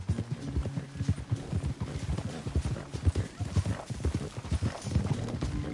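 Horse hooves clip-clop in a rapid, steady rhythm in a PS4 video game, loud and continuous throughout, with game voices talking over the hoofbeats.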